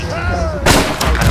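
A grapeshot cannon in Blackwake fires with a loud, close blast that rips in sharply, followed by further booming shots as the crackle decays, after a stretch of quieter ambient rumble.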